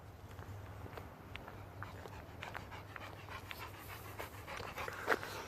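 A dog pants steadily on a walk in the woods, quick rhythmic breaths close to the microphone, with faint footsteps and light rustling throughout and a few louder clicks near the end.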